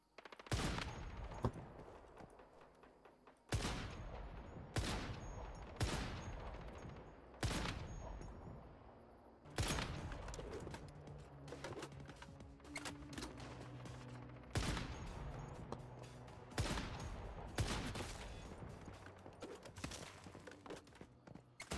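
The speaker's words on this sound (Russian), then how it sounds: "Так кто ж там-то стреляет?" Gunfire in the video game Once Human: sharp, loud shots come in separate bursts every couple of seconds, some in quick clusters, over a steady rumbling game background.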